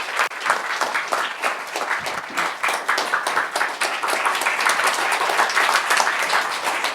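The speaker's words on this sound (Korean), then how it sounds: "박수로 맞이해 주시죠." An audience at a humanities arts concert applauds to welcome a ballet company director on stage, dense sustained clapping from many hands that stays loud and steady, swelling slightly toward the end.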